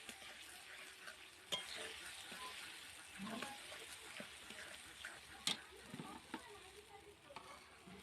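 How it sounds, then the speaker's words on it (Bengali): Onion with chilli, garlic and ginger paste frying and being stirred in a pan, a soft crackling sizzle with scattered clicks and scrapes, fairly quiet and close. "দিয়ে এবার সুন্দর করে মশলাটাকে একটু কষিয়ে নেব।"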